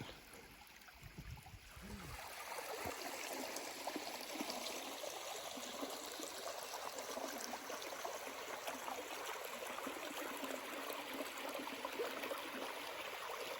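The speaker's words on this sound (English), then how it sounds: "Following along this beautiful, peaceful creek" Steady broadband rush of a peaceful creek flowing, close and continuous, rising to a full level after the first couple of seconds with no voices.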